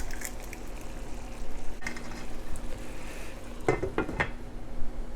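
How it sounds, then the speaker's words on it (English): An egg cracked into a hot pan of gyudon beef: a soft sizzle runs throughout, broken by a few sharp close clinks and cracks near the end. "Crack an egg right in the center."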